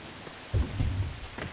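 Rain and a low rolling rumble of thunder in Siren: Blood Curse. A steady patter is joined by a deep swell of thunder about halfway through, with no one talking.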